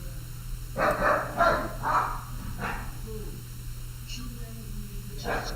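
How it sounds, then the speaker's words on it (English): A dog barks at a cat indoors, several loud barks in a quick burst, then quieter sounds under a low steady hum. "barking at the cat"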